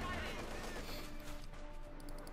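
Tank cannon and gunfire from a Company of Heroes 2 battle, a Jagdpanzer-type tank shooting at a T-34, rumbling as dense continuous combat noise with a voice talking over it throughout.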